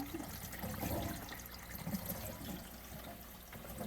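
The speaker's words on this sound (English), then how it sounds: "Water starts to flow through the filter." Water runs and gurgles steadily through a Fluval 404 canister filter, a soft continuous rushing and trickling that stays quiet throughout.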